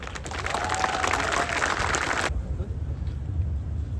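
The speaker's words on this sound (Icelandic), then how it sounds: "Við skulum gefa Davíð öflugt og verðskulda klapp." Crowd applause at an outdoor protest rally in Iceland, a dense broadband wash of clapping and cheering that cuts off abruptly partway through, leaving low rumbling background noise.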